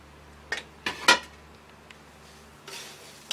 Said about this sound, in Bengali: আধা কেজি পুরোটাই ঢেলে দিব, এগুলো আমার ভাজা মুড়ি।